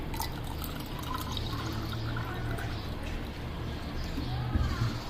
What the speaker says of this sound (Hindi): मैं भी तेज़ ठंडा पानी ही डाल रही हूँ इसमें